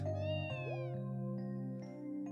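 A cat in the Trails from Zero video game gives a single meow that fades into sustained background music with soft ticks.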